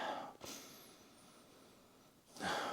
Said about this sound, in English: Let's sniff this one.